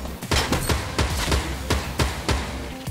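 Repeated gunshots in Fortnite, roughly eight sharp, evenly spaced reports in quick succession, loud and close, with a low rumble beneath them.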